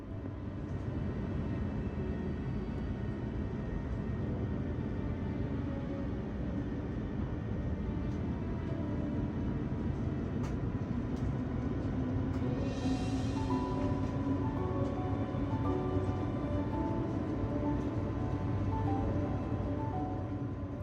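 Singapore Airlines jet taxiing toward runway 20 left at the airport, a steady low cabin rumble and engine drone filling the interior continuously, with a brief faint whine rising midway.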